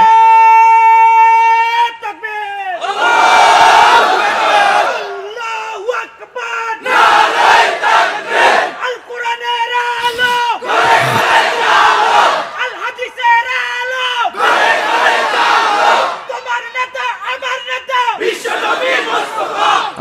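A large crowd at an Islamic religious gathering (waz mahfil) roars takbir in loud, repeated collective shouts. Each surge answers a lead voice on a loudspeaker, and the bursts recur rhythmically over a long stretch.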